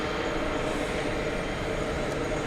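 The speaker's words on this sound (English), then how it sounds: "there's just a million planes taking off" Jet airliners take off at JFK airport, heard as a steady, loud, broad roar that fills the whole stretch without a break. No speech or other clear sounds rise above it.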